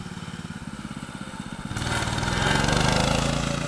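A dirt bike engine rumbles in a steady pulsing drone that swells louder and rougher as the rider passes close by.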